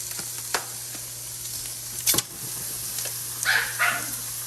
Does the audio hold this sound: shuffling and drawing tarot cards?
no